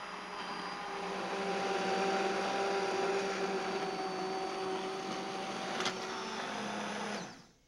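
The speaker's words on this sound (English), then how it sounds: "I'm using an immersion blender, which is a very practical tool." An immersion blender purees a soup of leeks, potatoes and onions in a home kitchen, giving a loud, steady motor whir with a faint rising pitch that runs for several seconds before cutting off abruptly.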